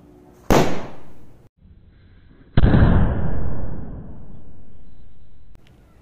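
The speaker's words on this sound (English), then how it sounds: "Let's try the bijli crackers." Bijli firecrackers burst outdoors in snow: two sharp, loud bangs a couple of seconds apart, each followed by a crackling, fizzing tail that fades out.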